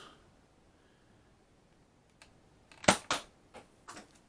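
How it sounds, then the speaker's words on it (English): A Nerf ZombieStrike Quadrot blaster fires a single shot, a sharp close snap followed by a few quieter clicks and rattles. "I'm going to try one more leveled shot."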